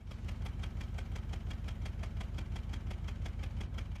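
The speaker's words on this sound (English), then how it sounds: "This is engine missing." A car engine idles steadily with a regular knocking stumble from a misfiring cylinder, a rhythmic misfire ticking through the low rumble, continuous and close.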